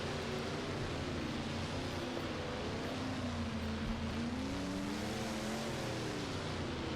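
Dirt track race cars running practice hot laps at Iceville Raceway, heard as a steady, distant engine drone with a wavering whine that rises and falls throughout, with no talk.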